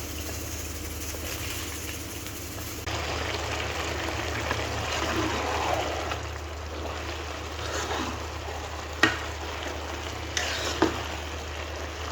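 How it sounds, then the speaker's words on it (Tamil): Rice goes into lightly boiling water for chicken dum biryani, giving a continuous gentle bubbling and hiss with a couple of sharp metallic clinks late on. "இந்த மாதிரி லைட்டாக கொதிச்சிட்ருக்கும்போது நம்ம வந்து அரிசியை போட்டுறோம்"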